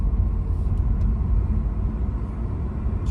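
A 2017 Toyota Camry cruises at operating temperature, a steady low road and engine rumble filling the cabin with no talk.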